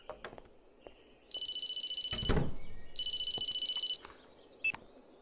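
A telephone rings in two clear bursts in a drama scene, each ring a steady electronic trill lasting under three seconds, with a dull knock-like thump between them and quiet room tone around.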